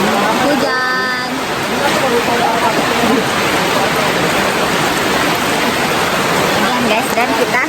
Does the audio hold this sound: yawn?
no